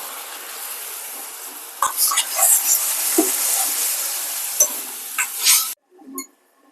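Food sizzles steadily in hot oil in a pan while frying for egg curry, with occasional stirring scrapes and clinks, close by, cutting off abruptly near the end.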